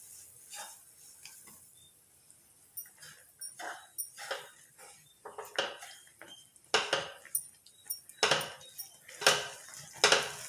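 A spoon stirs ragi flour into boiling water in a metal pan on a stove, with repeated scraping clinks and taps against the pan that come in irregular bursts and grow busier toward the end, with no talk.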